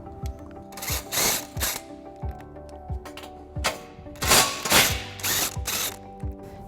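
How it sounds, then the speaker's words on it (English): A 16mm socket wrench removes bolts on a 2021 Jeep Wrangler, rapid ratcheting clicks in several short bursts with brief pauses, close and crisp. "we'll be removing these two bolts using a 16mm socket"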